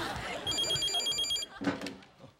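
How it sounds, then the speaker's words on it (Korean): An old-style telephone bell rings in a home, a bright trilling burst of about a second amid household noise, followed by a thump and a voice. "형, 전화 받아!"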